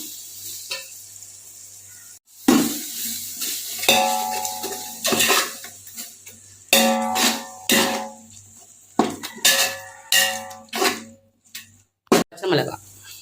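Ginger-garlic paste being stirred into biryani masala in a pot, with a spoon repeatedly scraping and clanking against the metal in irregular bursts over a soft sizzle, as a voice talks in between.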